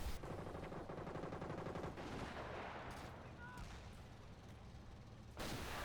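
PIAT anti-tank weapons firing en masse in a video game, a dense, continuous barrage of overlapping booms and gunfire that rumbles steadily throughout, with a sharp burst near the end.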